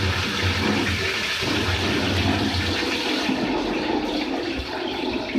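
Whole spices and meat sizzling hard in hot oil in a pot for beef chana dal pulao, with a loud, dense, steady hiss and crackle that continues the whole time without pause.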